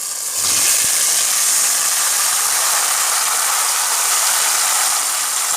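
Boiled, drained tapioca is tipped into a hot pan of browned onions and mustard seeds. A sudden, loud sizzling hiss starts right after a brief clatter and holds steady.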